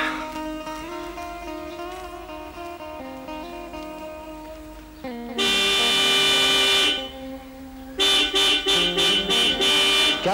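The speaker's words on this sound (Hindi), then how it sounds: "क्या बात है, इतना हॉर्न क्यों बजा रही हो?" A car horn honks in a long sustained blast, then after a brief pause sounds again in a series of rapid repeated short toots, loud and close, with music playing underneath.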